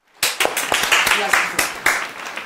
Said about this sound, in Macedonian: Аплауз за мене.